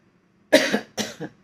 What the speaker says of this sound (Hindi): बोलते समय खांसी होती है